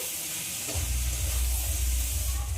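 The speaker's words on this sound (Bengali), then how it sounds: "মটরশুঁটি আর টমেটো দিয়ে আবার সব কিছু ভেজে নিতে হবে খুবই ভালো করে।" Peas and tomatoes frying in a pan for pasta sauce, a steady broadband sizzle with a low rumble that swells after a soft bump, continuous and close with no voices.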